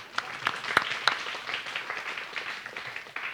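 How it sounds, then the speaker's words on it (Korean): A church congregation clapping during a Sunday morning worship service, a dense, fairly steady patter of many hands with a few sharper claps in the first second, moderately loud and continuing throughout. "박수 칠라. 박수 쳐."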